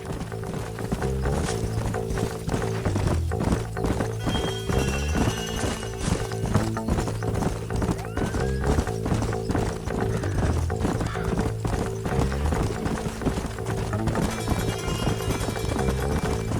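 Horses trotting in the Red Dead Redemption video game on PS3, with a steady clip-clop of hooves running continuously under a dense, loud music score and ambient game sound.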